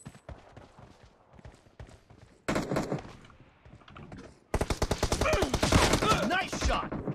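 Rapid bursts of automatic gunfire in PUBG Mobile deathmatch, sparse shots at first, then a louder volley midway and a dense, sustained stretch of fire near the end, loud and close with no talk.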